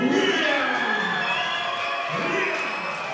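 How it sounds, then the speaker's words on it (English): A boxing stadium crowd at a Peach Boxing Trading Punches fight night in the ABA Stadium roars continuously, a dense, loud and steady wall of cheering that barely dips across the moment. "that crowd is just absolutely going wild"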